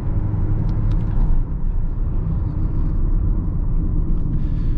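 A Volkswagen T-Roc engine pulls under light throttle up a mountain road, a steady low rumble and whir from inside the cabin with no clear rise in revs, continuous and fairly loud throughout.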